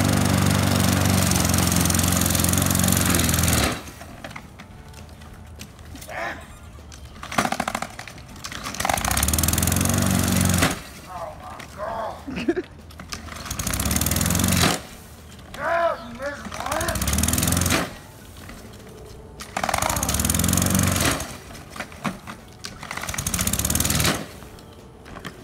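A push lawn mower runs loud and steady, its engine drone rising and easing in repeated passes as the mower is pushed back and forth, with short quieter gaps between bursts.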